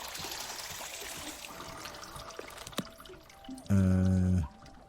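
Water pours into a cup in the video game WanderStop, with a soft trickle giving way to a short, louder burst of filling near the end. No voice is heard.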